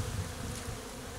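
Honeybees buzz steadily around a frame lifted from a Layens hive, a low continuous hum close by with no talk over it.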